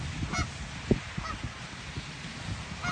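Geese honk in scattered, nasal bursts at a moderate distance, with a few louder calls standing out over faint background sounds.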